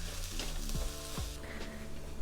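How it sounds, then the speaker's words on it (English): Lamb chops with apple sizzle and caramelize in a pan, a steady close frying hiss with occasional stirring scrapes and no talking. "Now let's try to get everything to caramelize."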